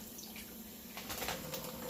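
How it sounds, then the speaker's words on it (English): A small amount of water pours into a pan or dish during freezer meal prep, a steady close splashing trickle that grows slightly louder partway through, with no talking. "I'm going to add just a little bit of water."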